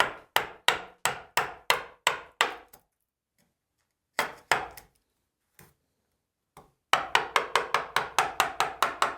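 A chisel is struck repeatedly to chop into wood, sharp close mallet taps in quick regular bursts, first a run of about nine, a pause with a few scattered hits, then another fast run.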